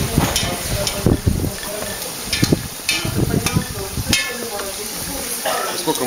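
Chunks of fatty ram mutton fry for Uzbek plov, a loud, close sizzle with bursts of spitting and stirring clatter over a continuous hiss.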